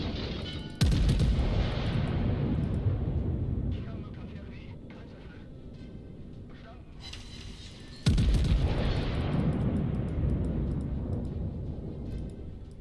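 Battleship main guns fire in World of Warships, two heavy booms roughly seven seconds apart, each followed by a long rumbling decay, with a voice speaking between the salvos.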